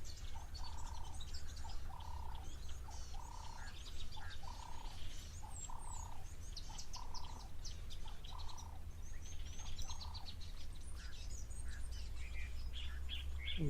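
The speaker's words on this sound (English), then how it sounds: "listen to all the different bird calls that we can hear in the background" Several bird species call at a waterhole, a repeating cooing or piping phrase at a steady rhythm joined by scattered chirps and tweets, fairly distant over a soft outdoor hum.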